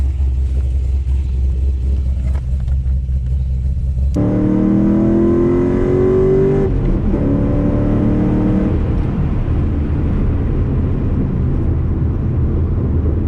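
A bagged and cammed HSV Clubsport Gen F drives on the road, engine idling low, then revving hard and pulling through the gears with a loud, close rumble that eases into steady cruising.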